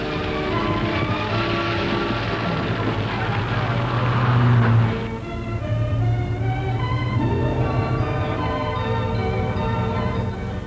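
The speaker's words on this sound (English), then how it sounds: "Norman Harvey takes a corner in high-speed style because this is no place for faint hearts and slow coaches." An Austin 1800 rally car takes a corner at high speed on the 1965 Monte Carlo Rally. Its engine drones loudly, holding pitch and then dipping and climbing again through the bend.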